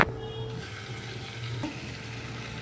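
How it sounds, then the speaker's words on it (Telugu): Onion, green chilli and tomato fry in a pan for a curry, giving a continuous close sizzle with a few faint stirring scrapes and no talking. "ప్రజెంట్ అయితే మనకి ఆనియన్ పచ్చిమిర్చి టమాటా ఫ్రై అవుతుంది"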